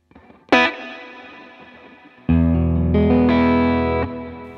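Electric guitar runs through a CKK Electronics Infinite Reverb pedal with the dampening turned fully, giving a struck note that decays into wash. Louder sustained chords follow and ring out under a long, full-range reverb tail.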